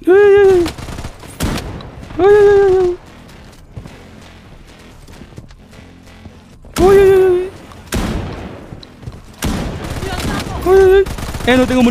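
Rapid bursts of MP155 shotgun fire in the Blood Strike shooter game, several loud blasts in clusters with short gaps, with someone talking excitedly between them.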